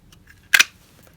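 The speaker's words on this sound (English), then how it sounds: "we're going to cut it out with the 1-inch circle punch" A 1-inch circle punch snaps down through paper for an Easter party favor box, one sharp crisp double click in an otherwise quiet room.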